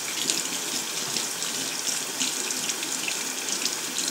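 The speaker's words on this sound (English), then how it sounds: "Now you can just run your brush under the water." A makeup brush is rinsed under a running tap, giving a steady, close splashing rush of water that continues without a break and with no voices.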